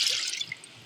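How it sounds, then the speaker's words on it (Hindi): Water pours into a pot of lentils being cooked, a faint splashing trickle that fades within a second. "5 गिलास डाल देने हैं पानी के।"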